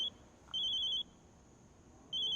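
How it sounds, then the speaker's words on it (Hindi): A telephone rings in two electronic trilling bursts separated by a short pause, clear against a quiet room. "फोन"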